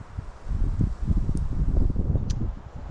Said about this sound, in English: we do have a pretty good gust of wind right now